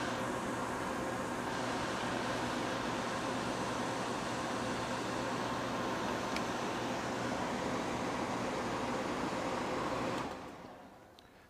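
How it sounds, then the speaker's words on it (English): A compressor running on a soft starter, giving a loud, steady mechanical hum with a constant tone that holds evenly before cutting off and fading near the end. "And the compressor's going to kick in."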